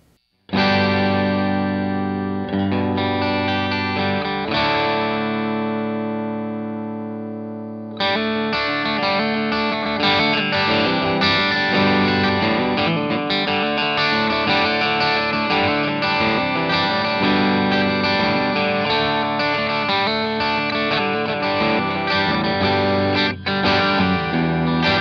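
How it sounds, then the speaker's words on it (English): An electric guitar with a single P90 pickup plays distorted, sustained chords and riffs through the British Invasion channel of a Hot Tone Britwind amp, close-miked, loud and alone, with one held chord decaying before busier playing resumes. "Same guitar, art guitar number 2, single P90, Hot Tone Britwind, British Invasion channel, VP26 mic preamp."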